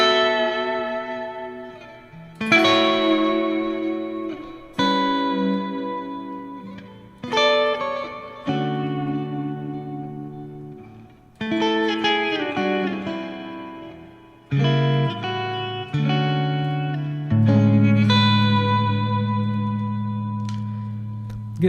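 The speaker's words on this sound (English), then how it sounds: "I'm going to have the neck pickup, and you can get some really good, very arch top kind of sounds." Electric guitar on its neck pickup giving a warm, archtop-like tone, played as a slow run of plucked notes and chords that ring and decay with reverb and effects, alone without talk.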